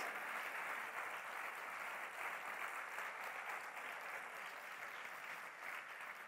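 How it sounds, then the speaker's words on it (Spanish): A congregation applauds steadily through an evening church gathering, a dense, even wash of many hands clapping at moderate distance with no break and no voices rising above it. "Aplaudile con ganas, decirle gracias Señor"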